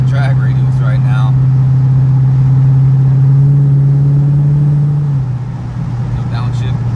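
Steady, loud low drone of a 6.4 engine swapped into an R/T car heard from inside the cabin, holding a constant pitch before easing off, with a faint voice at the start.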